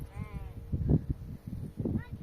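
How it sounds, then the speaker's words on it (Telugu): Sheep bleat a couple of times while grazing a farm field, wavering cries at the start and end, with people talking nearby underneath. "ఈ వరానికి గొర్రెలు అయితే మేస్తున్నాయి"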